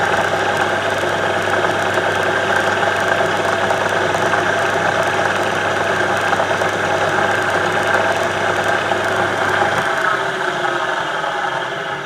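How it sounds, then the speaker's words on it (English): A spinning machine turns a captive nut while a cloth presses against it for a final buffing, producing a loud, continuous motor hum and rubbing drone that holds steady throughout, with a slight change in tone near the end. "Another cloth, final buffing."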